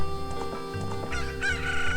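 Cuckoo chickens in The Legend of Zelda: Ocarina of Time squawk and crow in a rapid string of loud, close clucking calls over a steady game backdrop.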